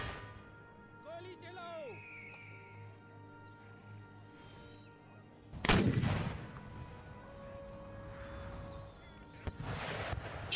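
Artillery cannon fire from the video game Empire Total War, one loud heavy boom in the middle rising over a quieter battlefield bed, with faint tones and later softer rumbles.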